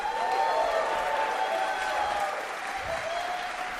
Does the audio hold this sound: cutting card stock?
no